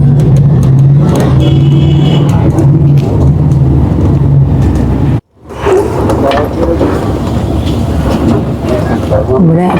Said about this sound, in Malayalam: ഇവിടെ അത്യാവശ്യം വണ്ടികളൊക്കെ ഉണ്ട് കേട്ടോ